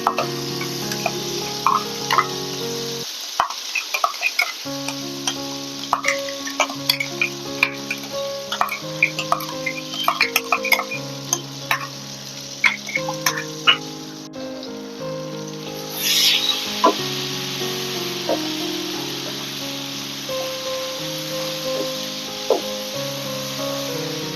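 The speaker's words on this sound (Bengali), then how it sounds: "তেল গরম হয়ে গেছে, আমি এবার যে মিশ্রণটি তৈরি করেছিলাম মিক্সিতে সেটা দিয়ে দিচ্ছি।" A ground spice paste from the mixer goes into hot oil, giving a crackling sizzle with many sharp pops and ticks over a steady hiss. Background music plays throughout.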